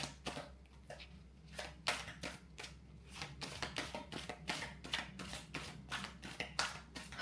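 A deck of cards shuffled by hand, close up, with a rapid run of crisp riffling snaps and flicks repeating in quick bursts and no voices over it.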